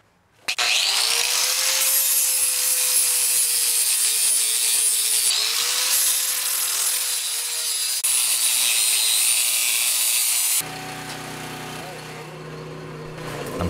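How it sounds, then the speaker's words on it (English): Steel bar stock being cleaned up before welding with a power tool, a loud, steady high whine of grinding or abrading metal that dips and restarts, then drops to a lower running hum near the end. "now I'm going to clean up the steel so we can get everything welded together"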